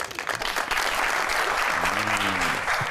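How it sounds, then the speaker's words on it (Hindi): Studio audience on a talk show applauds steadily throughout, and a voice speaks briefly over the clapping near the end. "जल्मी के जरा सपोर्टर्स जरा तालियां बजाएं"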